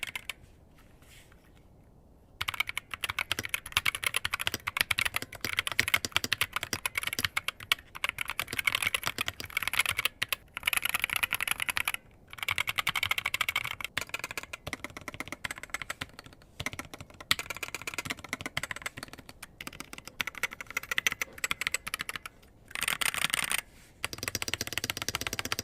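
Dense, steady typing on a tape-modded Punkston Tezarre TK63 gaming keyboard, close and clear with rapid irregular key clacks, starting after a brief quiet opening and pausing only momentarily a few times, no voices.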